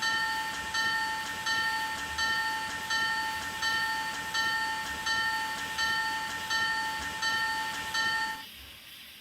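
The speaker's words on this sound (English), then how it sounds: "That little weird dinky sounding bell." A QJ steam locomotive's bell in the Trainz railway simulator rings steadily and loud, with evenly spaced metallic dings over a constant tonal hum, stopping abruptly near the end.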